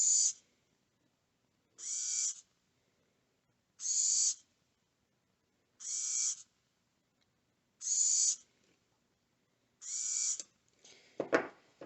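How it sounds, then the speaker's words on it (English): A Dynamixel AX-12A servo motor powers up and runs in six evenly spaced, near, high-pitched whirring bursts of about a second each, separated by silence, ending with a brief clatter. "I'm going to turn on the servo"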